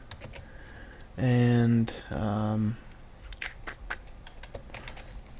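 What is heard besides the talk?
typing code on a computer keyboard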